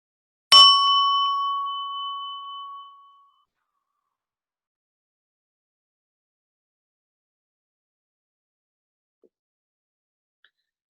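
A single meditation gong strike rings out clearly, its bright tone sustaining and fading over about three seconds before near silence follows.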